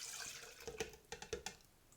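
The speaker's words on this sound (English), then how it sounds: "So pour the warm milk into there." Warm milk pours into a bowl for pancake batter, a short run of splashy liquid spatters and gurgles in a few quick bursts, close and fairly quiet.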